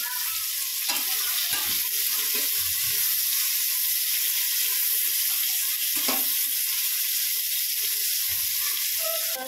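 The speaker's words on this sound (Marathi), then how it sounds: "कांदा पण लालसर होईपर्यंत फ्राय करायचा।" Chopped onion fries in oil in a pan, a loud continuous sizzle with occasional scrapes and clinks of a spoon stirring it.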